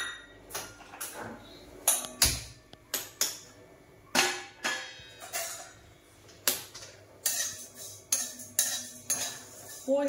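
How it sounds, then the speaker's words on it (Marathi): Poha dry roasting in a pan, a spoon scraping and clinking against the metal in a steady series of sharp strokes, close and clear, with no talk. "आपण आता पोहे भाजून घेऊया।"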